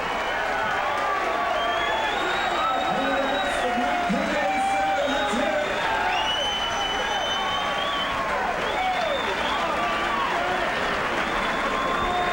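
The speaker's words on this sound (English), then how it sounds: "The crowd is on its feet, and rightfully so." A boxing crowd at a Doug DeWitt vs Lenny Lapaglia bout keeps up dense, sustained applause with cheers and whoops, and an announcer talks over it.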